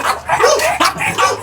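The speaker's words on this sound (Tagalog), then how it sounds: "yung aso, nagwawala" An agitated dog barks in several sharp bursts over a second and a half, loud and close, with short gaps between the barks and no talking.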